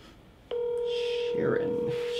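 A telephone call being dialed, with a faint hiss followed by an abrupt, steady, close ringback tone that holds to the end, while a voice speaks under it.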